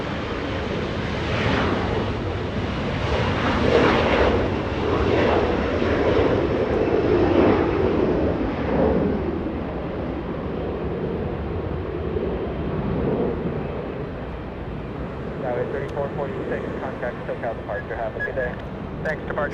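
Embraer E175 jet departing Los Angeles International Airport for San Francisco, a loud broad engine roar that slowly fades and thins as it climbs away, with a voice talking over it.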